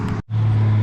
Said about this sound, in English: first dump truck's here